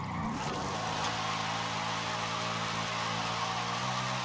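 A car engine in Forza Horizon 5 hums steadily at near idle, a continuous close-up drone with a slight rev at the start and no speech.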